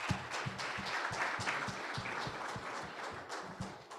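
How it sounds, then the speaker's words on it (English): An audience applauds the legislators at a community meeting, a fairly quiet, even clapping from a modest crowd with a few sharper individual claps standing out, and no talking over it. "let's have a round of applause to our legislators"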